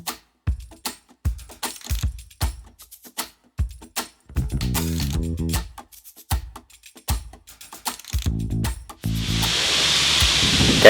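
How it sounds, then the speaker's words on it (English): A sandblaster runs in a boatyard, its broad hiss swelling loud near the end after a stretch of intermittent knocks and clatter. "that's a sandblaster that runs most days in the yard."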